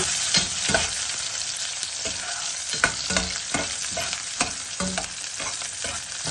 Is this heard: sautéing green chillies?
yes